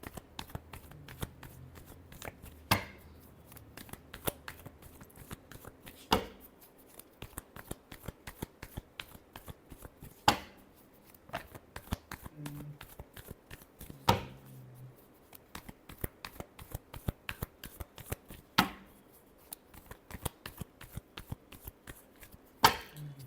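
A deck of tarot cards is shuffled by hand during a reading. Soft riffling and sharp taps repeat unevenly for over twenty seconds, quiet and close, with almost no talk.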